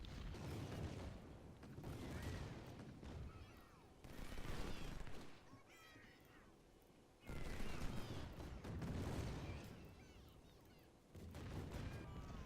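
Cannon and musket fire from a Civil War battle at Shiloh in the Ultimate General strategy game, with rolling volleys and booms in surging waves, loud throughout and with no one talking.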